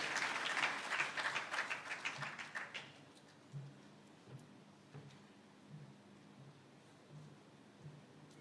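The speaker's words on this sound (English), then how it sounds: "A warm round of applause to Engineer as he comes to make his address." Audience applause at an engineering convention in Mombasa County, Kenya, fairly faint and distant, lasting about three seconds before fading into a quiet room with scattered small taps.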